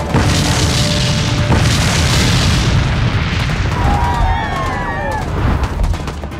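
A loud rocket explosion in a Turkish military TV drama, a heavy boom with a long rumbling, crackling roar that fills the scene and slowly fades, with faint higher whistling tones near the end.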